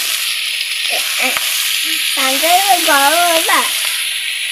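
Ground spices, salt and garam masala fry in a pan with a steady, bright sizzle, close by, while someone talks over it.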